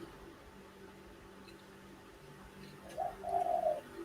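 Pigeons coo near the end, a short soft run of low throaty calls over faint outdoor background hum.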